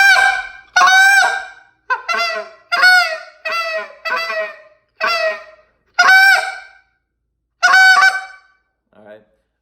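A series of short, sharp honking spit notes on a goose call, about ten notes in an uneven rhythm, loud and close, ending with a softer clipped note.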